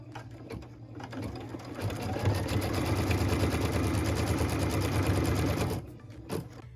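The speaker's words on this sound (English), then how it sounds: "What we're stitching now is the tack down line for piece number 3." A sewing machine runs steadily for several seconds stitching the tack-down line on a Wild Goose Chase quilt block, a close, even motor whir with rapid needle chatter that stops near the end, followed by a brief thump.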